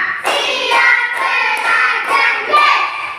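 Rhythmic hand claps from children doing a counting clap chant, roughly six evenly spaced claps in steady succession, near and clear, no talk over them.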